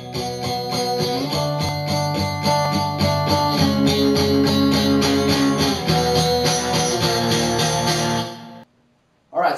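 Guitar chords strummed steadily at a strong, even level for about eight seconds, then cut off into near silence.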